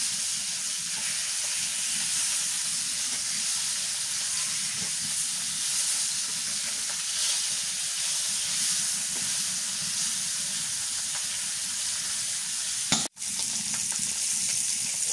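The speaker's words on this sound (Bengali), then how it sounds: "কড়াইটা ভালো করে হিট করে নিচ্ছি তো মাছটা ভাজিটা সুন্দর হবে" Mrigal fish frying in a hot wok, a steady loud sizzle and hiss of oil running without a break, with a brief sharp dropout near the end before the frying resumes.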